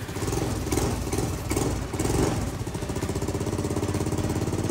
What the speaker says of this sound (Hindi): ओ गई फाइनली स्टार्ट मेरी KTM।